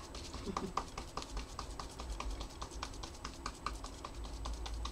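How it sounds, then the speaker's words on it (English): Rapid, light tapping repeats steadily throughout, a busy run of small clicks over a low background hum. "Lots of tapping."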